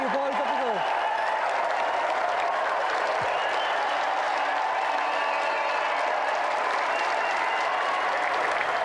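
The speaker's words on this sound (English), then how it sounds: "A round of applause, please, for John Morrison" Sustained applause from a large TV game show studio audience, steady and loud throughout, with brief voices at the start.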